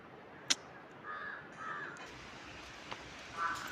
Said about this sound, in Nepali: कागहरू कराउँदो रहेछ, क्वाक गर्दो रहेछ गाइज